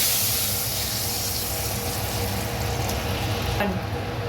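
Steady broadband hissing and sizzling as water is poured into a hot pan of spices, continuous and close throughout with no talking.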